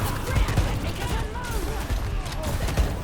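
Rapid gunfire in the video game Overwatch, with Junker Queen in play: a steady rattle of shots and game effects running under continuous excited talking.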